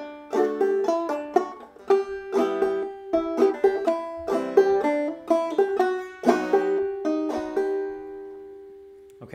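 A clawhammer banjo plays the melody of Greensleeves with a syncopated, skipping rhythm, its bright plucked notes and drone string ringing out clearly, solo and close, with no talking.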